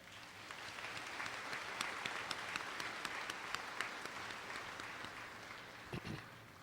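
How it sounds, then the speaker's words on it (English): Commencement audience at the University of Arkansas Fort Smith applauds in a steady, moderately distant wash of clapping, with a few sharper claps standing out and a brief low thump near the end. "Let's give them a round of applause."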